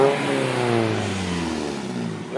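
A Ferrari at a Cars and Coffee meet revs its engine nearby, a loud rising and falling tone with clear harmonic sweeps that climbs, then eases down over a couple of seconds.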